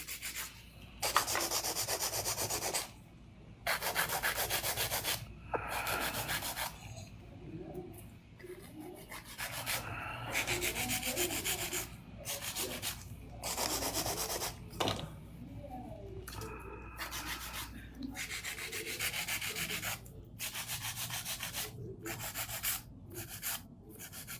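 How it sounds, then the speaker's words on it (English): Repeated rasping strokes of a nail file scrape back and forth in steady bursts with short pauses, close and fairly quiet, shaping gel-art fingernails. "And I'm gonna do some filing."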